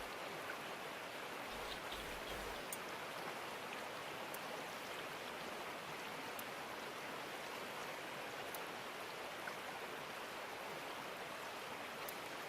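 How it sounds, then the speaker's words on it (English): Water tipped out in the Gold Rush video game, heard as a steady, even wash of splashing and pouring that runs evenly throughout, with a few faint higher clicks over it and no voices. "Let's tip some of this water out,"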